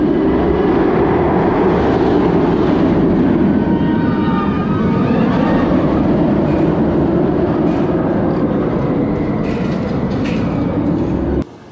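A loud, continuous rumbling roar of the Montu roller coaster train rushing past on its track at Busch Gardens Tampa, steady and close, cutting off abruptly at the end.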